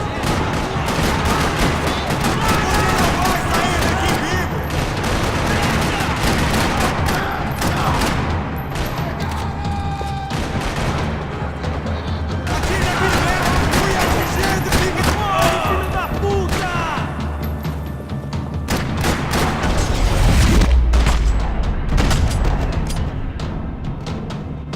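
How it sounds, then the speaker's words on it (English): Dense, continuous gunfire rattles throughout a parking lot shootout in Max Payne 3, with bursts of automatic fire and occasional heavy thuds layered in a busy, loud game soundscape. "Another parking lot rattling with gunfire."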